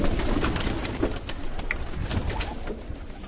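Soft, low coos from breeder pigeons repeat amid rustling and scattered flapping-like noises, fairly close, with no one speaking.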